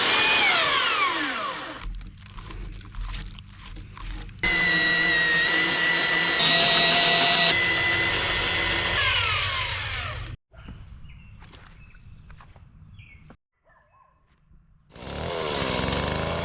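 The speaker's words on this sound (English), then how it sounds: "I decided to try to cut out the rest of the mortise with a chainsaw." A chainsaw cuts a mortise into a white oak fence post, its engine whining loudly and close, dropping to a rough idle between bursts before revving up again.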